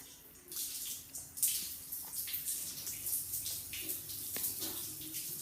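Shower head spraying water onto a face during a Songkran water-festival makeup test, a continuous hissing spray with splashing bursts, fairly close and alone.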